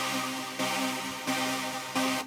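Sustained synth chords from Pigments hit in three repeated stabs, each swelling with a bright, airy top end as the filter cutoff opens before cutting off, quiet and spacious.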